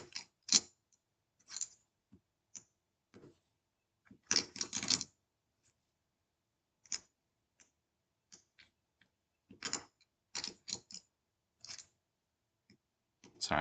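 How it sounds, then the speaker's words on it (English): Sparse clicking and clattering of small hard chips, irregular bursts of riffling taps separated by quiet pauses, close and fairly soft. "I'm trying to shuffle the chips quieter."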